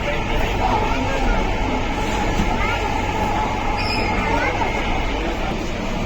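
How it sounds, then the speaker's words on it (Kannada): A metro train in motion gives off a steady, loud rumble and drone, with faint high squeals riding over the continuous noise. "ಮೆಟ್ರೋದಲ್ಲಿ ಹೋಗ್ತಾ ಇದ್ದೀವಿ ಇವಾಗ"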